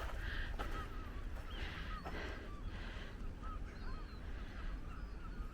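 Swans honk and call now and then from a short distance beside a river in Scotland, steady outdoor murmur and faint water or traffic noise underneath, without any clear talk.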